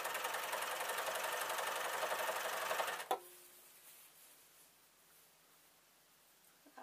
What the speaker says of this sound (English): And it's going to trim it off all the way around, because sergers are wonderful.